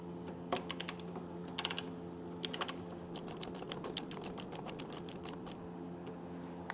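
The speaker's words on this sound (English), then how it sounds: "So let's get that torqued down." A torque wrench tightens a bolt on a Ninja 400 motorcycle during a protection kit install: close, crisp clicks and ratcheting ticks in short bursts, repeated steadily over a low constant hum.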